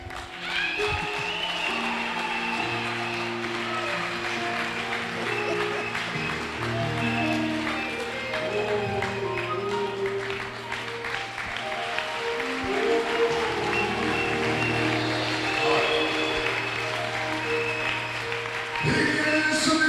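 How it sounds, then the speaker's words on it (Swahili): A congregation applauds at a Swahili deliverance and healing prayer service, steady clapping blended with sustained music and some voices throughout. "mpe Yesu makofi"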